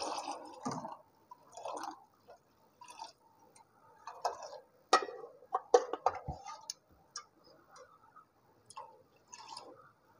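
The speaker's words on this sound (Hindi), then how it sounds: "तीन कप मैंने इसमें ठंडा पानी ऐड किया।" Ice-cold water poured into simmering Kashmiri pink tea in a cooking pot, with close, intermittent splashing and trickling bursts separated by short pauses.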